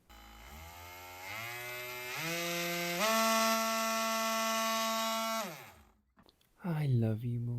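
Lumberjack 20V cordless oscillating multi-tool running as it cuts, a buzzing whine that steps up in pitch over several seconds, holds steady and then cuts out, followed by a brief voice.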